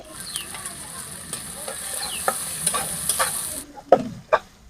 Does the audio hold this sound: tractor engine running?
no